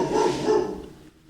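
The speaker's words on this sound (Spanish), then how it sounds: "Y si se queda ladrando mucho rato, le ponemos el collar" A dog gives a single close, loud bark, a short double-pulsed woof that fades out within a second, with no talking around it.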